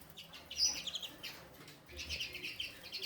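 Lesser and mealy redpolls chirp and twitter in quick, scattered bursts in a birdroom, with soft wing flutters now and then, all fairly quiet and close by with no talking.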